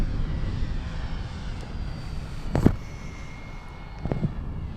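A radio-controlled model airplane flies slowly in to land, its faint engine drone a continuous low hum with a couple of brief louder swells.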